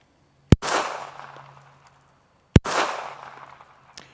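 Two pistol rounds fired at a paper target on a shooting range, each a loud, sharp crack with a short trailing decay, spaced about two seconds apart.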